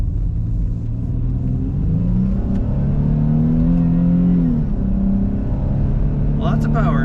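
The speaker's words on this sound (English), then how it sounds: "Let's get a little acceleration here." A 2020 Chrysler 300 S sedan with what sounds like a stock exhaust accelerates, its engine rumble rising steadily in pitch, then easing off near the end. The engine note is loud and continuous and is heard alone.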